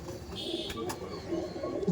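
Malbahi pigeon, a black-beaked, black-clawed Punjab breed, cooing softly at close range under a steady low background hum, with a couple of brief sharper sounds mid-way.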